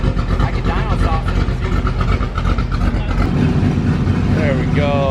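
A Jeep engine revving loud and close, breaking up as the torque converter cuts in and out, with rising and falling whines over a rough, steady roar and voices talking over it.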